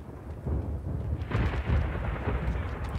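A thunderstorm in the video game Max Payne 2: The Fall of Max Payne rumbles steadily. The deep roll swells partway through and is heard alone at a moderate level.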